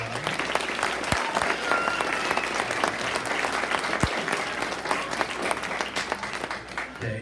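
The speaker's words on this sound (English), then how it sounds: "Can we get a round of applause for this one?" An audience at a school's end-of-year performances applauds longtime students, a sustained, even wash of clapping from a crowd that holds steady throughout with a few sharper claps standing out.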